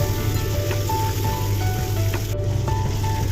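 Fish heads fry in hot oil in a pan, putting out a dense, continuous sizzle that stays close and even throughout.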